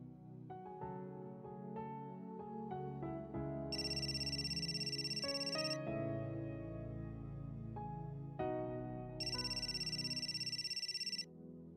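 A phone ringtone plays a melodic electronic tune, joined twice by a bright high trilling ring, steady and fairly clear with no voices.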